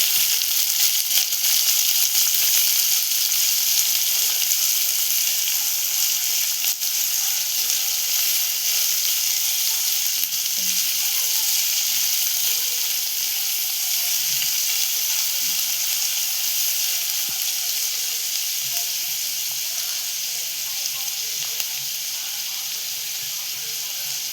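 A large chopped onion fries in oil in a pan, giving a loud, continuous broadband sizzle that holds steady throughout, with faint occasional scrapes of stirring beneath it.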